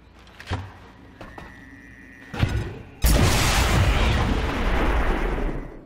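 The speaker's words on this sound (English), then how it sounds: "Grenade out!" A grenade explodes in XCOM 2, a loud sustained boom that hits after a few sharp bangs and mechanical clicks and then rumbles and slowly fades over several seconds, with no talk.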